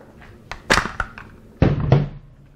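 A magazine goes into the mag well of a Molot VEPR-12 AK-style shotgun, giving two close clunks in quick succession, each with a short metallic rattle.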